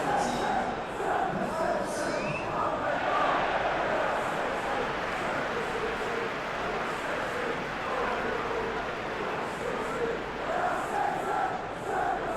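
A roaring stadium crowd at a PES football game match between Man City and Liverpool fills the air with steady chanting and broad murmuring roar throughout, loud and continuous.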